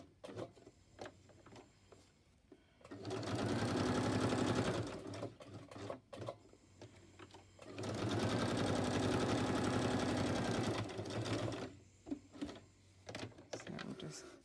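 A sewing machine stitches pages of a book-page notebook in two steady whirring runs of several seconds each, close and loud, with handling noise and a person talking in the gaps between runs.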